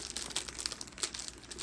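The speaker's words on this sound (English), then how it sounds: "I'm just going to tape them on there" Tape being pulled and pressed while treats are fastened to wooden dowels for homemade Valentine crafts, giving a close, steady crinkling and crackling with several small sharp peaks over about a second and a half.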